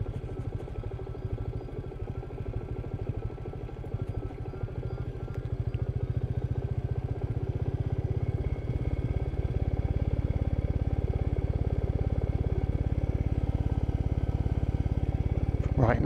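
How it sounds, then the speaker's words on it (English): Royal Enfield Meteor 350 motorcycle chugging along an off-road track, a steady thumping single-cylinder engine rhythm that grows louder and fuller partway through, close and continuous, with a voice talking over it. "I bet that guy doesn't get many Royal Enfield Meteor 350s chugging by his"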